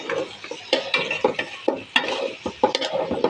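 Meat added to hot spiced oil in a pot for haleem, stirred with a utensil: repeated scraping clatters and bursts of sizzle recur in a steady, close, fairly loud rhythm with no talking.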